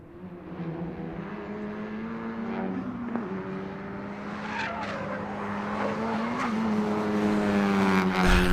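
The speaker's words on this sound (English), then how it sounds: "all I hear is tire squeal coming down 12" Race cars at Road Atlanta during a time attack session, engines droning steadily with tires squealing and skidding as they come through a corner, the sound building louder toward the end.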